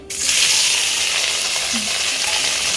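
Chili-spiced food frying lightly in a pan, giving a steady, close, broad sizzle that fills the whole clip with no talk over it.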